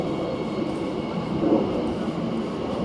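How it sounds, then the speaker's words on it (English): An Elizabeth line train pulling out of Shenfield station toward London Paddington, a steady broadband rumble of rolling stock that swells slightly midway, heard up close and alone with no talk over it. "the Elizabeth line, now departing towards London Paddington"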